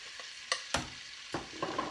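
Chopped onions dropped into melted butter in a pot for cream of wild mushroom soup, a soft sizzle with a few sharp scrapes and stirring knocks, close and fairly quiet, no talking.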